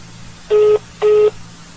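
Two short, identical electronic beeps from a telephone, evenly spaced about half a second apart, over a quiet background hum.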